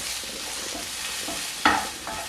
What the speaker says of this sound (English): About 8 minutes later, and I've come to stir the onions and check up on everything.